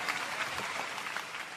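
Brief burst of audience applause at a live concert for a guitarist and musician, a dense wash of clapping heard from a distance at moderate volume.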